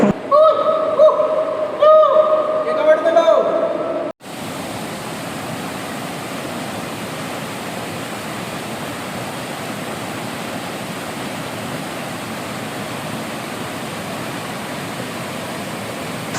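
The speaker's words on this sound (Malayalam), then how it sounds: "ഇത് അടുത്തുള്ള വെള്ളച്ചാട്ടമാണ്" Roaring waterfall near the Vagamon (Uluppuni) tunnel, a steady broadband rush of falling water that takes over after a few seconds of voices and continues loud and unbroken to the end.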